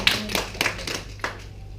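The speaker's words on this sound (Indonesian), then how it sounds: "Ya beri tepuk tangan buat Tuhan." Scattered hand claps from a church congregation, a few sharp separate bursts rather than sustained applause, fairly faint and close.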